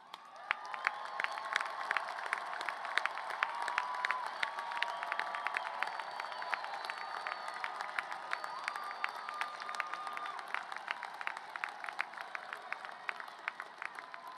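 A commencement crowd applauds honors graduates as they rise at a university arts, media and communication ceremony: sustained, dense clapping from a large audience heard at a distance, with occasional cheers mixed in.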